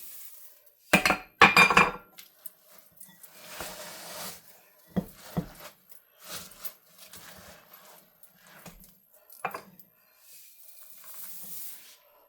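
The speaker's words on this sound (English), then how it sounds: "you see how I'm just working my Rice Krispies down with the spoon" A spoon scrapes and clinks against a bowl while working Rice Krispies into cookie dough for Ranger cookies, giving a few loud clattering bursts early, then softer intermittent scraping taps with quiet gaps between them.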